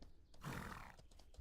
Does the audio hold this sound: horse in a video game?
yes